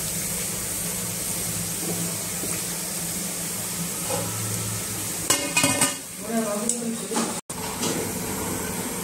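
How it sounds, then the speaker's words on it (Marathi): Cabbage bhaji fritters frying in hot oil, with a steady crackling sizzle throughout, close and fairly loud, broken midway by scraping and clattering as a utensil turns and lifts them out. "असे खालीवर करून द्यायचे आणि लगेच काढून घ्यायचे।"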